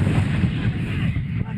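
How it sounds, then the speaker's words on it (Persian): Artillery guns of the US-led coalition firing on ISIS positions at a base on the Iraq–Syria border, a loud, dense low rumble of sustained booming with no distinct separate shots, heard alone. "اینجا توپخانه نیروهای ائتلاف به رهبری آمریکاست"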